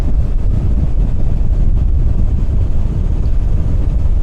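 A 2013 Bayliner 195 with a Mercruiser 4.3 engine planing across choppy water, giving a steady, loud low roar of engine, hull and rushing water, with heavy wind buffeting on the microphone throughout.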